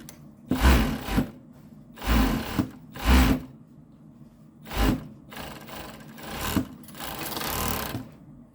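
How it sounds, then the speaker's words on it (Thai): A sewing machine stitches a pocket bag onto the side seam of a loose dress in several short runs, each a few seconds of fast whirring separated by pauses. "เราก็จะเอาถุงกระเป๋าเนี่ย เย็บติดกับตะเข็บข้างไปเลยนะ"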